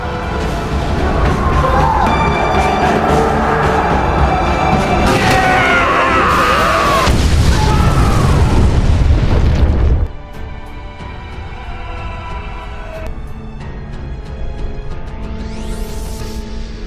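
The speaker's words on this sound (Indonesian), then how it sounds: "tindakan bodoh seorang prajurit Korea yang putus asa menyebabkan ledakan yang cukup besar di kapal" A large shipboard explosion in a Korean war film about a naval battle roars loud and dense with crashing debris and shouting crowd noise, then gives way to a quieter rumbling battle din.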